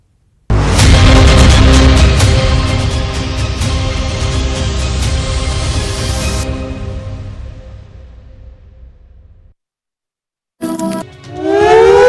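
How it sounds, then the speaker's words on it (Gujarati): A loud civil defense air raid siren wails steadily, then fades away; after a short silence, another rising siren burst starts up. "ચાર વાગ્યાના ટકોરે અને દેશભરના વિવિધ શહેરો આ પ્રકારના સાયરનથી ગુંજી ઉઠ્યા"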